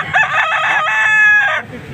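A rooster crowing once, loud and close, at an animal market in Pampanga, Philippines, followed by faint background noise.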